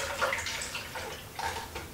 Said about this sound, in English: pour the acid into the container